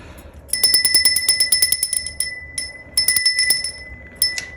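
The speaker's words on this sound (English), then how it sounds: "I'm going to give my bell a little ring to cleanse the energy." Small hand bell rung in quick bursts of bright, ringing strikes, a flurry of chimes followed by a couple of shorter shakes and a final ring, close and loud with no speech.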